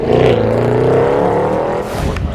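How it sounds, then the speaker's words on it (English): Loud, steady engine note from a BMW E92 M3 running close by, holding a sustained rising drone with strong harmonics before easing slightly near the end. "It's safe to say the E92 M3 is one of the best sounding cars ever made"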